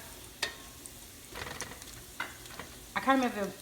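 Salmon patties fry in a hot cast iron pan with a low, steady sizzle punctuated by a few short spatula scrapes, and a brief voice-like sound near the end.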